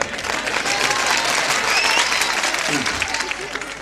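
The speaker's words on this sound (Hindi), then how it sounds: "2-3 तालियों के लिए बहुत धन्यवाद।" A crowd applauds steadily at a Hindi poetry recital, a dense wash of clapping that holds loud throughout, with a voice speaking briefly over it.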